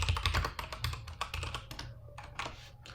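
Close-miked typing on a computer keyboard while writing JavaScript in a code editor, a quick uneven run of clicky keystrokes that slows near the end, with no voices.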